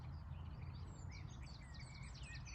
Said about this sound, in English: Blackbird, the fence line.